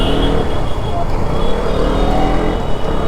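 Busy road traffic at school time, with stalled buses and engines idling and rumbling nearby in a dense, continuous wash of loud motor noise, heard from a KTM Duke motorcycle.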